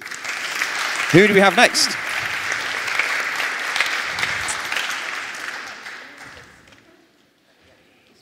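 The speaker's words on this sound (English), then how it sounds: "Another round of applause, please." An audience at a children's show-and-tell at a Python conference applauds a young presenter, steady clapping under a brief spoken line, fading out to near silence at the end.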